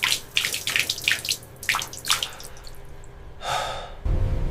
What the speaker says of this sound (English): A worker splashes cold water on his face to stay awake.